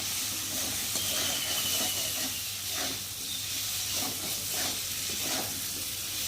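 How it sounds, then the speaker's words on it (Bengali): Spices with fresh ginger frying in a pan give a continuous soft hiss and sizzle, with occasional stirring scrapes underneath. "দিয়ে এখন ভালো করে ভেজে নেব মশলাটাকে"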